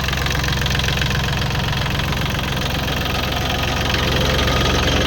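A three-cylinder Kubota L3608DT tractor engine from 2010 runs steadily nearby, a loud low knocking chug with constant vibration and no voices.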